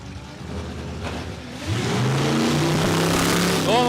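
At Palmyra Raceway in Australia, a drag racing car launches down the strip. A faint hum builds into a loud engine roar with rising pitch partway through, and commentators talk around it.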